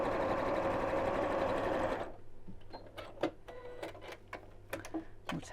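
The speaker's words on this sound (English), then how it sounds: "So we'll sew along those edges, and we'll just chain stitch" A sewing machine chain-stitches quilt pieces in a steady, close mechanical whir for about two seconds, then stops, leaving soft clicks, fabric rustling and faint handling sounds.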